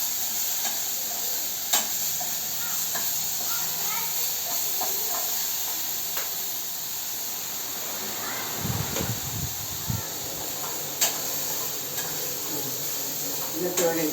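Vegetables for a pachadi, green chillies and other ingredients tossed together in a pan on a home kitchen stove, sizzling steadily with a soft continuous hiss and occasional stirring scrapes, a few louder low bumps near the end.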